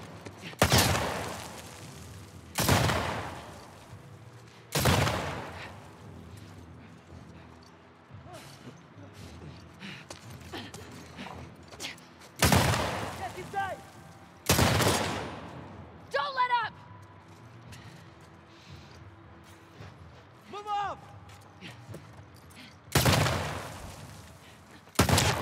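Gunfire in The Last of Us Part 2 Remastered on PS5: sharp, loud single shots spaced several seconds apart, each with a short decaying tail, over a quiet game ambience with faint chirps between.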